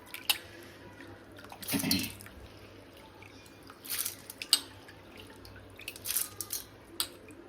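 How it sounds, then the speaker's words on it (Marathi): Soaked wheat sits in a sieve with water draining from it. Soft trickling and dripping come close by, with a few louder splashy bursts over a faint steady hiss. "हे सगळे गहू मी चाळणीत काढते आणि सगळं पूर्ण पाणी निथळू देते याचं"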